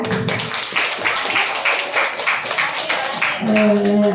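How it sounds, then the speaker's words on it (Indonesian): Schoolchildren clap their hands in quick rhythmic bursts, close and lively, with voices mixed in and a sustained vocal tone at the end. "Ya, tepuk tangan."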